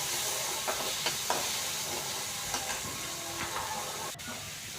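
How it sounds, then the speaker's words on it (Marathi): Chopped tomatoes sauté with browned onions in a pan, giving a steady, soft hiss and sizzle with a few faint clinks from stirring. There is no speech. "तेही थोडंसं सॉफ्ट होईपर्यंत आपण त्याला परतून घेऊ."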